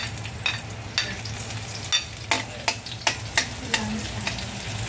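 Garlic and onion sautéing in a pan for a mussel soup, a steady soft sizzle broken by a series of sharp scraping stirs and clinks at regular intervals, close and fairly quiet, with no talking.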